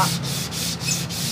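Sandpaper is rubbed by hand across acoustic guitar wood along the grain, giving about four even back-and-forth scratchy strokes in steady rhythm, close and clear with no voices.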